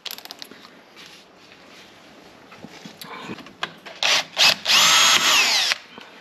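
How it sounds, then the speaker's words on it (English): Power drill boring a pilot hole in a caravan solar panel bracket: short whirring bursts at first, then loud, close, sustained drilling with a bright metallic whine near the end, with no talk over it. "drill the pilot hole, and then our little screws just go straight through the bracket"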